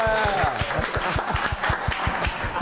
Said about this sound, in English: let's give Dom a clap